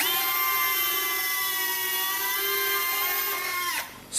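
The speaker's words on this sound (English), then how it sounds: "let me show you this gear operation." Retractable landing gear servos whine steadily on an FMS 1400mm F6F Hellcat RC warbird, a sustained electric motor drone for nearly four seconds that stops abruptly at the end, heard up close with no talking.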